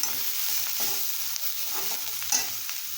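Grated coconut being stirred and sautéed with onion in a pan for a simple onion chutney, soft continuous sizzle with a few scraping spoon strokes, close and alone without talk.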